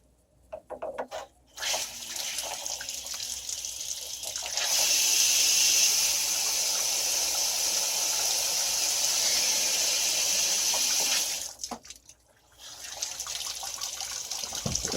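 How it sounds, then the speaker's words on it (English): Water rushes out of a drained boiler tank, starting with intermittent splashing and then settling into a steady, loud gush that runs for several seconds before it stops abruptly and trickles on again. "One of the first things I need to do here is actually drain the tank."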